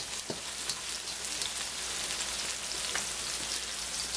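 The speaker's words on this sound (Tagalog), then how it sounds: "antayin lang natin siyang mag-brown yung garlic tsaka yung onion" Garlic and onion frying in a pan give a steady, close sizzle with soft crackles throughout, like light rain on a surface, and no one talks over it.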